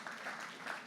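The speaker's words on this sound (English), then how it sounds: "So a round of applause, our elected officials." Audience applause for elected officials at a civic conversation event, a steady soft patter of many hands clapping, fairly distant and faint throughout the short burst.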